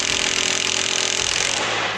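An impact driver runs with a harsh, buzzing rattle, loud and close, held steady for a couple of seconds before easing off.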